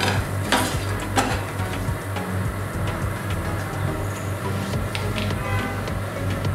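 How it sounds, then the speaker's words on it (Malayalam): A spoon stirs puliyogare tamarind rice mixture in a pan on a low stove, a steady scraping and soft rustle with a couple of sharper metal clinks near the start, close and alone without talk. "നല്ലോണം മിക്സ് ചെയ്ത് കൊടുക്കുക."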